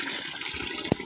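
Water pouring steadily from an old village stone spout, a continuous close splashing gush with one brief louder splash near the end.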